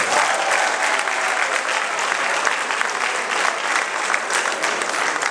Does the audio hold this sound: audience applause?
yes